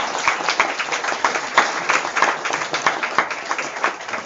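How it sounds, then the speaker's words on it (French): An audience applauds at a meeting to show approval of a financial report, a steady patter of many hands clapping with a few sharper individual claps standing out, moderately loud and continuous throughout. "Si oui, vous applaudissez."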